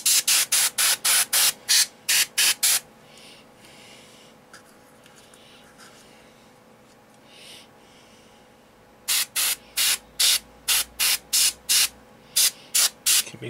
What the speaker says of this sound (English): spray some of the mud where it would splatter just onto the wheel